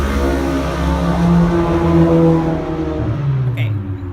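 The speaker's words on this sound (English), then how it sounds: "Okay, a couple loud motorcycles." A couple of loud motorcycles pass by outdoors, a strong rumbling engine roar that swells and then slowly fades.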